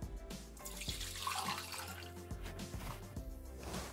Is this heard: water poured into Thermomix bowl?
yes